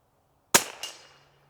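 A single .22LR rifle shot cracks sharply at close range, followed a beat later by a short echo that fades quickly into quiet.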